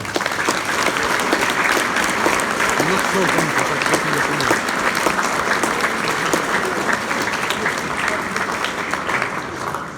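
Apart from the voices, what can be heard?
audience applause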